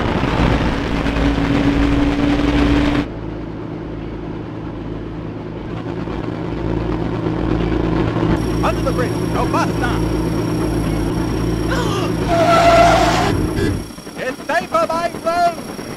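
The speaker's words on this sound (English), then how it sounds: "Wow, I knew a tank engine could perform like that." A tank engine locomotive runs in the Trainz railway simulator game as a steady, loud mechanical drone with a low rumble. It carries a brighter hiss for about fourteen seconds, then drops away to quieter scattered sounds.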